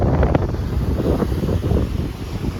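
Storm wind at Dumas beach batters the microphone in loud, continuous gusts, mixed with the rough churning wash of sea waves close by.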